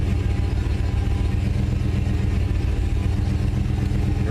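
A 1995 Chevrolet Suburban engine runs steadily at idle up close while the steering turns lock to lock, a constant low mechanical hum with faint clatter and no talking.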